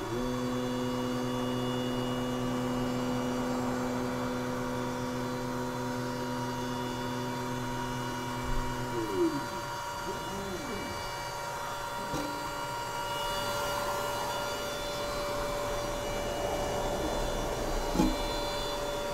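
WeCreat Vision laser engraver running at full power: a steady mechanical hum with layered tonal drones for about nine seconds, then shifting to a fainter whir with small clicks and bumps, continuous and close, no talking.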